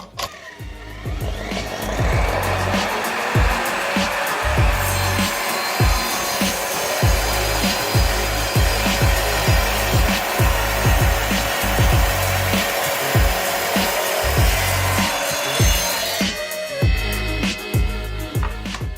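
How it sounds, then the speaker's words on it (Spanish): Evolution R255SMS sliding miter saw cutting through a hard, ceramic-like plastic sheet, a loud steady whining cut lasting most of the clip with rough grinding texture, then winding down near the end. "En este caso vamos a cortar ahora esta plancha, que es como de cerámica, de un plástico bastante duro."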